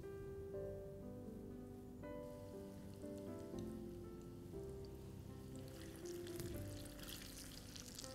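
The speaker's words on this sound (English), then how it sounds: "So let's deep fry the French toast rolls" Steady hiss and crackle of French toast rolls deep frying in hot oil, continuous throughout, with a low hum and some tonal background sound underneath.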